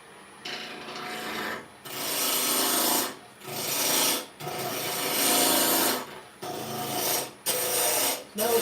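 A Crown Tools Carbide Pro carbide rasp files across a piece of timber in long, loud rasping strokes, about seven of them with brief pauses between, close up and with no talking.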